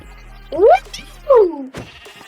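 Two loud, close sheep bleats in quick succession in Minecraft, followed by a short clatter.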